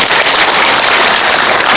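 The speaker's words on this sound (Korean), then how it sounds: "박수 부탁드립니다" A town briefing audience in Jecheon applauds a newly introduced council member, a loud, dense, continuous clapping that fills the whole short moment without pause.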